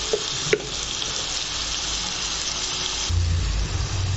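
Brinjal and potato curry fries in a pan with turmeric, a steady close sizzle with a couple of sharp clinks near the start and a louder burst of frying toward the end.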